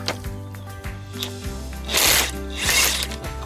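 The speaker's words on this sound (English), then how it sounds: "I've got my impact gun with a 24mm socket on the end." An impact gun fitted with a 24mm socket rattles against the pulley of a 2006 Ford Connect Visteon alternator, working in rapid repeated hammering pulses that build into two louder, harsher bursts near the end.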